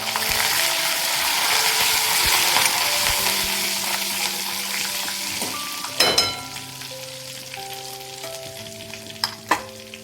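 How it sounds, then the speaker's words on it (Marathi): Curry leaves are dropped into hot oil for a stuffed capsicum dry dish, setting off a loud, dense crackling sizzle that eases gradually, with a couple of clinks from a utensil near the end. "कढीपत्ता टाकून घेते यामध्ये"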